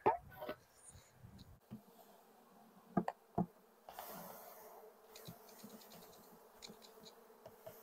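Swarming honeybees from a 3-pound package buzz steadily as they are shaken and dropped into a hive, with scattered thumps and knocks of the box and brief bits of nearby voice.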